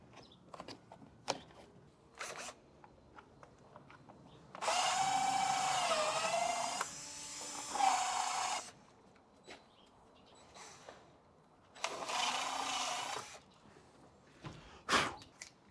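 A power drill drives screws into an S14 Zenki front lip being fitted to a CB7 Accord, in two loud sustained whirring bursts with a rising and falling motor pitch, plus scattered clicks and knocks between them.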